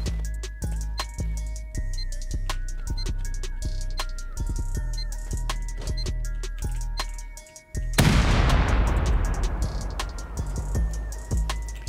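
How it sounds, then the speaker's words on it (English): A C4 charge detonates in the survival game Rust during a base raid, a sudden loud boom near the middle that bursts into a broad roaring blast and rumbling decay, following a steady stretch of game ambience with repeated sharp clicks. "All right, let's do one C4 in there."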